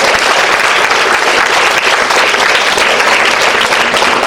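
Audience at a national nutrition month celebration applauding steadily, a dense, even wash of clapping hands with no break, loud and close throughout.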